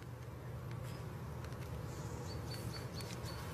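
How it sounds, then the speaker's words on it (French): Bees inside a beehive, recorded through a phone placed beside the hive, producing a low steady droning hum with faint higher chirps and tones over it, continuous and fairly quiet. "enregistrer le son produit par les abeilles"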